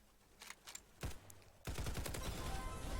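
Gunfire in the Roblox shooter Hypershot: a few scattered single shots, then a sustained rapid automatic burst that fills the final second and a half, loud and close, with no talk.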